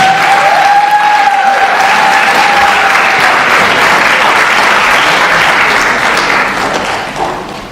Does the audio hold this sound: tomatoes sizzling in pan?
no